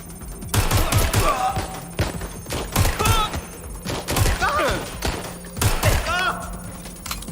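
Gunfire in the video game Watch Dogs Legion: repeated loud shots and short bursts in irregular clusters, with voices talking between and over them.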